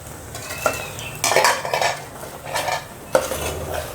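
Vegetables including carrot are stir-fried in a pan for spaghetti, with repeated clattering scrapes of a utensil against the pan in uneven bursts over a low background sizzle.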